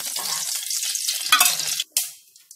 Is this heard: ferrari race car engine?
no